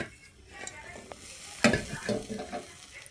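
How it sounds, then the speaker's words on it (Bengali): Nigella seeds and chopped onion frying in hot oil in a pan, with a soft sizzle that swells into louder crackling bursts as the mixture is stirred. "দিয়ে দেবো সামান্য কালো জিরে এবং পেঁয়াজ কুচি দিয়ে ভালোভাবে ভেজে নেব।"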